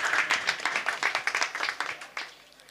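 A church congregation claps at a harvest festival service, a brisk burst of many hands applauding together that fades out toward the end.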